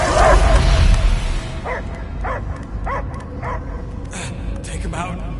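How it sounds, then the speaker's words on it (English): A dog barks and yips in the Guardians of the Galaxy video game, a run of short, evenly spaced barks after a loud opening burst, close and clear against a low background rumble. "I hear only barking."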